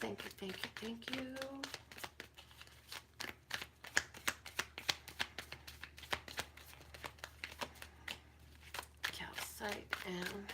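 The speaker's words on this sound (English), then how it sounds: "Let me pull some tarot cards to see what else this is going to say with clarity." Tarot cards being shuffled and pulled from a deck produce rapid, close papery flicks and riffles. A voice talks briefly at the start and end.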